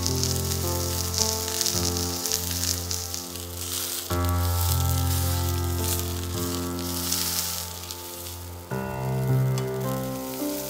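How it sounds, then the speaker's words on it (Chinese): Pork belly tied with string for char siu sears in a pan over high heat, giving a steady, close, loud sizzle with crackling spatter that surges briefly at a few points as the meat shifts. "大火煎上颜色"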